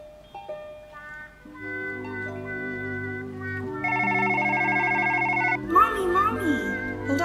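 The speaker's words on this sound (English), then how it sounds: "I have to get the phone." A telephone rings in a home in a short drama, its tonal bell pattern sounding steadily under a child calling out and other voices, with music-like tones layered in near the end.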